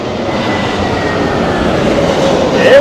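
A Lufthansa airliner lands at Heathrow during Storm Nelson. A loud, continuous broadband roar of engines and wind runs throughout and swells toward the end, with no talk.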